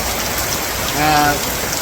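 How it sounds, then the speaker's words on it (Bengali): Heavy rain pours down in a village, a steady dense hiss throughout with a brief, faint tonal sound partway through. "তাহলে বৃষ্টি পুরো দমে নেমে গেছে"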